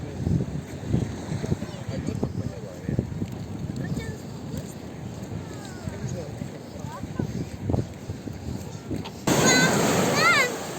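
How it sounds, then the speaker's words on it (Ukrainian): Sea waves splashing on the shore along a restless seafront near Odesa, surging and spraying in bursts with blustery wind over the microphone, close and loud, with people talking under the splashing. "там бризгає, як ми будемо йти мокрюще"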